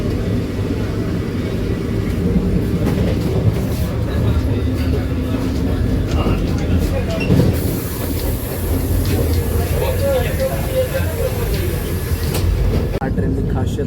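Vande Bharat Express, a semi-high-speed fully air-conditioned chair-car train, running with a steady loud low rumble and rolling noise throughout, no clear talk, heard from on board.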